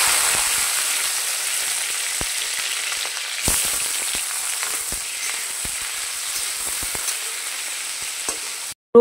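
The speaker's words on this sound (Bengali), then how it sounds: "রসুন টমেটো দুটো একসাথে এরকম করে ভালো করে একটু ভেজে নেব।" Garlic and tomato frying together in a pan, a continuous close sizzle with scattered stirring clicks and scrapes, ending in a brief loud clatter, no talking.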